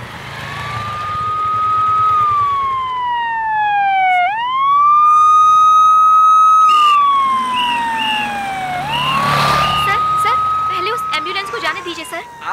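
A wailing emergency siren sweeps up and down in long loud cycles, close by in city traffic, with vehicle noise beneath and brief voices near the end.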